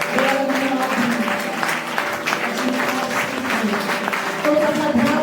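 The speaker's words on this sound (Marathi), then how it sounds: "टाळ्या वाजूया" A church congregation claps together during a Sunday service: steady, sustained applause that fills the whole stretch, with music and voices faintly underneath.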